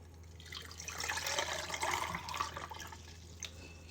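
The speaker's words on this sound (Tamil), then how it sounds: "இப்போ இந்த கலந்த தண்ணியை இதுக்குள்ளே கொட்டுங்க" Sugar and salt water, mixed until the sugar dissolved, is poured into a dish while cooking, giving a steady splashing and trickling flow that swells and fades over a few seconds at close range, with no talking.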